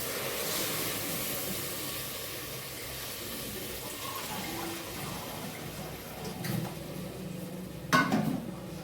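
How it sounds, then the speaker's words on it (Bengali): Water poured into a pot of ghee-fried rice with grated ginger for pulao, giving a steady hissing sizzle that fades slightly, with a couple of brief clinks of a utensil against the pot. "চালটা ভাজা হয়ে গেছে আমার, এবার জলটা দিয়ে দিই।"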